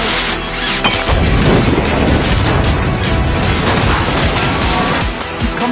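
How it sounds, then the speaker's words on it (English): Bomb explosion in an office: a loud, dense booming blast with crashing debris, filling the whole stretch at high level with no speech. "You come to my office and plant a fucking bomb?"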